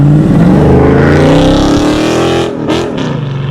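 A 392 stroker engine in a widebody car revs loudly and close, a thick, sustained roar whose pitch climbs and then drops off near the end, with no voices over it.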